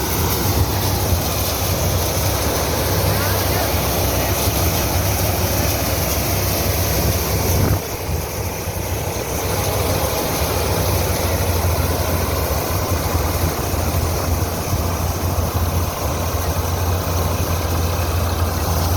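An MF 260 tractor runs a maize sheller out in a field, a steady droning engine and machinery roar that stays loud and continuous throughout, with no talking.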